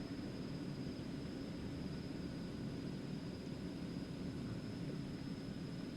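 An Eclipse 550 jet taking off in the X-Plane 11 flight simulator, giving a steady, even engine roar with a faint high whine and no talking.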